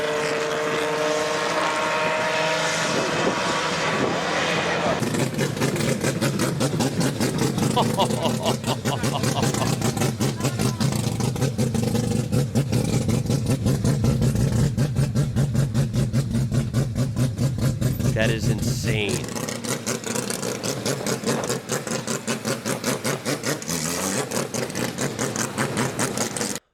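Mazda 787B four-rotor rotary racing engine revving high and sustained, a loud, dense buzzing wail that holds steady for most of the stretch before easing off, with a brief spoken reaction over it.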